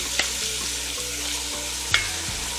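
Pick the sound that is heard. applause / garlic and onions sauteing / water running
garlic and onions sauteing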